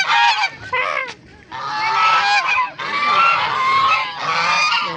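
Several geese, three, honk loudly and close by in raucous, overlapping bursts with brief pauses between calls, outdoors in Nasugbu.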